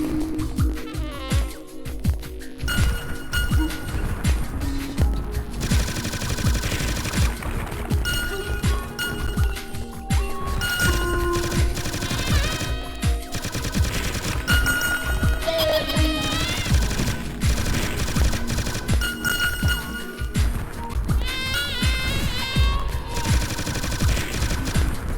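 Steady rapid gunfire in a video game while descending, a dense continuous patter of shots layered under music and game effects, with no talking.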